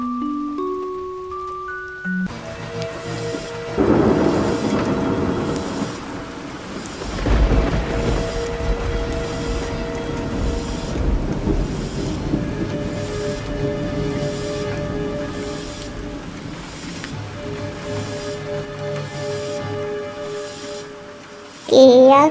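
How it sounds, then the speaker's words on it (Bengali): Heavy rain and rolling thunder in an animated cartoon, a steady wash of downpour with low rumbles swelling through it and a music bed alongside, lasting throughout. "বাইরে তো অনেক বৃষ্টি হচ্ছে"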